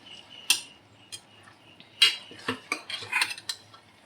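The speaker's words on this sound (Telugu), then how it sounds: "మధ్యలో ఒకసారి మాత్రం ఇలా మిక్స్ చేసుకోవాలి." Mint rice mixed in a rice cooker bowl, a run of sharp clinks and scrapes from a spoon against the pot, several distinct taps at an uneven rhythm, quiet and close with no talking.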